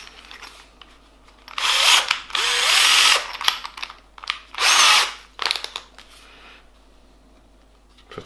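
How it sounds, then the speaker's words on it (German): A Bosch GSB 12V cordless drill bores with a Forstner bit in three or four loud, sustained whirring bursts, separated by brief trigger blips and short pauses. No one speaks. "Jetzt wieder der GSB mit dem Forstner Bohrer."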